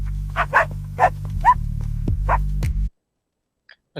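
A small dog in an AI-generated scene lets out several short, sharp yips and barks over a steady low hum, then everything cuts to near silence with a faint click at the end.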